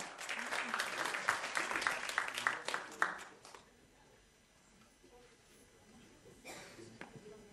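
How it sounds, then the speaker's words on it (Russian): Audience applause at an awards ceremony for a radio festival, a burst of many hands clapping for about three seconds before fading into quiet room noise with a brief late flurry. "Аплодисменты."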